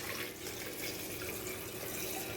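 Water runs steadily from a kitchen tap in a continuous, even splashing stream, close and moderately loud, with no talk over it.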